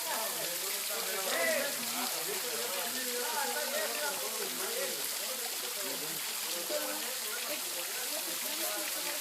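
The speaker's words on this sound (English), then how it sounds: "This is Rose Valley Waterfall" Rose Valley waterfall in Ojai in summertime, a steady, hissing rush of falling water heard at moderate distance, constant and fairly faint, with voices murmuring underneath.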